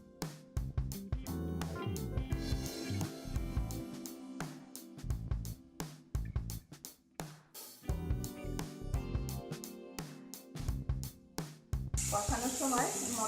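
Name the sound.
bay leaf, dried chilli, cumin-ginger paste sizzling in oil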